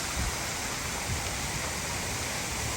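Splashing water at a resort splash pool for small kids with water slides in Riviera Cancun, a dense, continuous rushing wash like a waterfall or heavy spray, steady and loud with no distinct voices.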